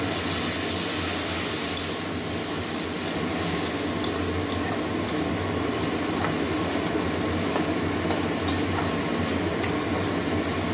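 Water poured into spice paste frying in a pan for a soybean bora curry, producing a continuous broad hissing rush with faint bubbling and occasional small ticks, steady and close.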